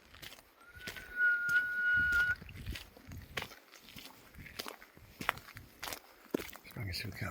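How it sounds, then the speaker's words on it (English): A whistled bird call on a forest trail in Mount Rainier National Park rings out once, a clear sustained tone lasting about a second and a half, amid footsteps on the path and people talking nearby. "A whistling bird."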